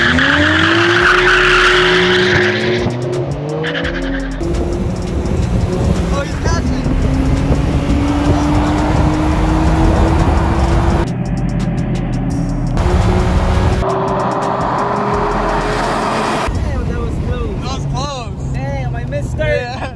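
A Nissan Skyline R34 and R32 GT-R launching in a drag race: loud, close engines scream up through rising gears with sharp shifts and tire squeal, and people's voices come in over the roar.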